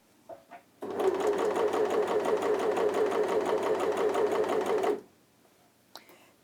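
A sewing machine stitches fabric in one continuous fast run of rapid, even needle clatter lasting about four seconds, close and fairly loud, then stops abruptly; a voice speaks briefly before and after.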